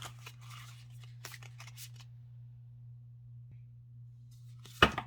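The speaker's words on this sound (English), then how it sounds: "Shuffle these a little bit here. I do love that sound." Tarot cards are shuffled in a few short, crisp riffling bursts with pauses between them, close by over a steady low electrical hum, and end with a sharper snap.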